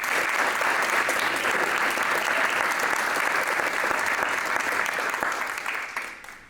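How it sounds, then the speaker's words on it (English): An audience at an evening engineering prototyping competition gives sustained, dense applause that holds steady for several seconds and then tapers off at the end. "Let's give them a round of applause."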